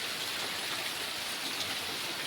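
Steady rain falls over Vijapur taluka, a dense even hiss of drops hitting surfaces with no pauses or voices.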